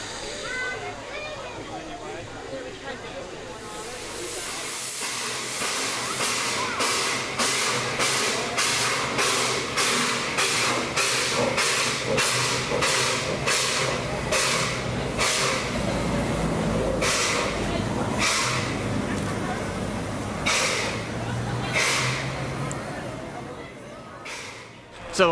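A steam locomotive pulls away from the servicing pit at a heritage railway during an evening lights event, with a steady loud hiss and rhythmic chuffing bursts that grow more spaced and fade into the distance, while people talk over it.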